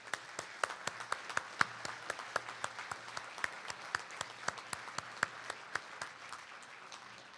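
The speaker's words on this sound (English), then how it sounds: "I would like to ask you to join me in applauding him for this wonderful new clubhouse" A meeting audience at an annual club meeting applauds a new clubhouse with sparse, distinct claps in a steady patter, moderately close and fairly quiet, with no talk over it.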